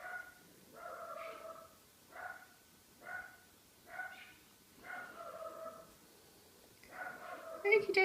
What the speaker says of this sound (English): there goes my puppy, so she's probably seen a cat